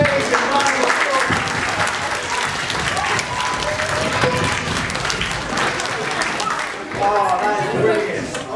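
A crowd at a science event breaks into sustained applause, dense and loud throughout, mixed with cheering, chatter and a few raised voices speaking over the clapping.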